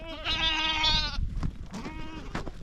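A single goat gives one long, wavering bleat close by, followed by softer shuffling and barnyard noises.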